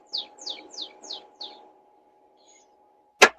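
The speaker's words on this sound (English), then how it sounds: "I hear that little bird. It's way cute." A small bird gives five quick, high chirps in a steady run, followed by a short pause and one sharp, louder click-like note, with a faint low hum underneath.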